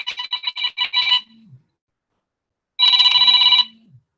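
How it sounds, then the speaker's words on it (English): A telephone rings loudly during an online church regional council meeting, one burst of rapid trilling rings, a pause, then a second longer ring, with no talking over it. "I don't know who's ringing."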